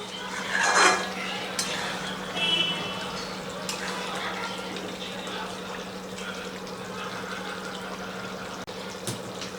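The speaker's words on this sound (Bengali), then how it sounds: "এবারে আমি ঢাকনাটা খুলে একটু নাড়িয়ে দিই।" Bihari-style mutton curry in a lidded pot, stirred after the lid comes off while onion juices simmer: steady scraping and wet stirring over a low constant hum, with a clink of metal near the start.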